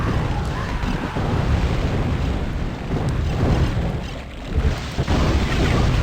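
Lightning spell attacks in the video game Hexen: Deathkings, aimed at wyverns, come through as loud, rumbling, crackling thunderous bursts rolling almost continuously for several seconds.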